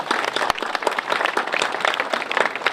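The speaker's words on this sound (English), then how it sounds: "a round of applause for our legislative support" Loud applause from an audience at the dedication of a new science and engineering building, close and dense, many hands clapping continuously with a crisp, busy texture from start to finish.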